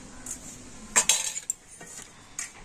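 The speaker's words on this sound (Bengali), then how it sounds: "তো এবার আমি ডিমটা ভালো করে ফেটিয়ে নেব" An egg with a pinch of salt is whisked in a bowl, giving a few quick, close metallic clinks and scrapes of a utensil against the bowl over a couple of seconds, with nothing else heard.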